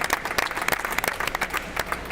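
Brief, lively applause from a studio audience at the finale of a LEGO building competition, a dense burst of clapping from a modest crowd cheering the Season 1 champion.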